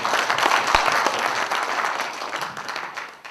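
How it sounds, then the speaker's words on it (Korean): A room of attendees at a union delegates' and representatives' meeting claps to approve the business plan, a dense, even burst of applause at close range that stays loud and slowly thins over a few seconds. "박수로 승인해 주십니다"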